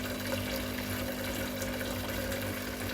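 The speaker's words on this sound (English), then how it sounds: "So as soon as I pushed the tank of clean water in, the machine started again." A Delonghi Magnifica S coffee machine pumps clean water through during a descaling rinse, a faint steady hum with trickling water, continuous and close without talk.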